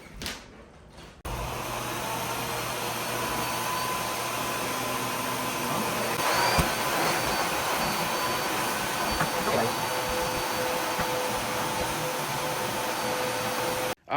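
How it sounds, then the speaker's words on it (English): A household vacuum cleaner runs steadily and fairly loudly for about thirteen seconds, a constant broadband roar with a faint tonal whine, starting abruptly after a brief quieter moment and cutting off at the end. "It's just a vacuum to make the house pretty."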